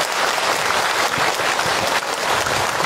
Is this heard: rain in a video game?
no